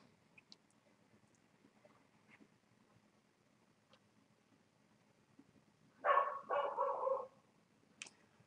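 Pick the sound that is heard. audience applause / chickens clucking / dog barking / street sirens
dog barking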